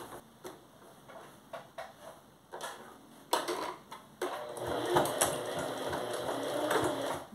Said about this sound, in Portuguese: a gente vai passar uma costura reta na parte de cima e na parte de baixo